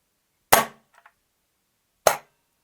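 Two sharp, loud airsoft shots from a Novritsch SSG24 sniper rifle with the inner barrel tip sealed, about a second and a half apart, with a faint mechanical click between them and no talk.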